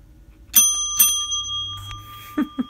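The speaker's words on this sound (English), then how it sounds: "That bell ringer was for you" A bell ringing in a small room, two sharp bright dings in quick succession that leave a lingering ring, followed by a few soft knocks.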